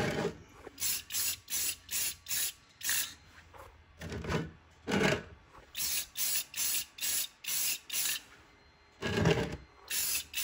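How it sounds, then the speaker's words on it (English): Repeated short bursts of matte enamel spray from an aerosol can coating the hair and face of a printed and painted Homelander figure, about a dozen hissing pulses with brief gaps, close and fairly quiet, no talking. "Now we're going to give his hair and face another coat of matte enamel."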